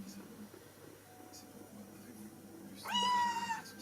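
A cat gives a clear, rising meow near the end, after a stretch of low, steady indoor murmur that may hold faint purring; the close meow stands out loudly against the quiet room.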